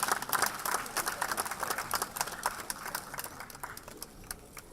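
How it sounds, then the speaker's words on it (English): Applause rises from the audience at the Manthan Award gala for an e-women empowerment category winner, a crowd clapping loudly at first, then thinning and tapering off as individual claps stand out. "Round of applause, please"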